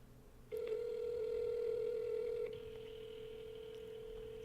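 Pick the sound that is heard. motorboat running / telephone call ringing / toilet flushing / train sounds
telephone call ringing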